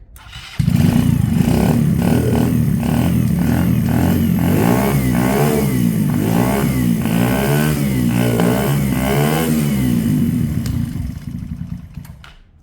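A Yamaha Fazer motorcycle engine starts without choke, then runs and revs repeatedly in rising and falling bursts, loud and close, before cutting off near the end.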